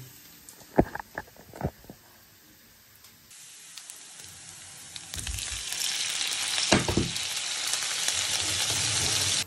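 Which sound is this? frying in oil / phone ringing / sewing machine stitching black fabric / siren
frying in oil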